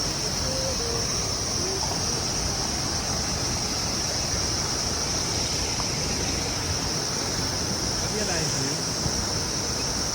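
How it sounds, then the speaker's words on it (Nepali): Large waterfall beside a trail at Marsyangdi 4, Lamjung, giving a steady, dense roar that fills the whole clip without a break, with a faint high insect-like hiss on top. "यो हाम्रो लमजुङ मर्स्याङ्दी 4 मा पर्ने झरना"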